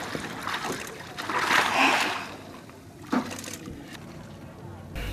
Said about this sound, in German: Kräftiges Rühren im Wasser ist das Signal.